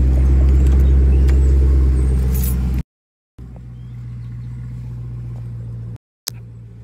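A Dodge Charger or Challenger engine, started by remote start, runs with a steady, loud low rumble, briefly cutting out twice before the idle resumes at a slightly lower level.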